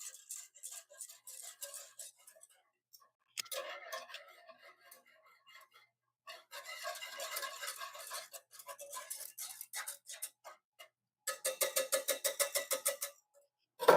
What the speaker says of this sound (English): Then we're going to whisk that around until we know the sugar is dissolved.